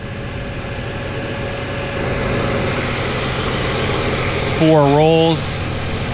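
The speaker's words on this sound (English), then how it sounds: "After your spindle soft start is over, you can turn your power feed on." A 0.56 kW Wagoma power feed runs on a 2016 Martin T12 shaper with a tenoning table, giving a steady, loud motor hum that swells slightly midway, with a brief voice over it.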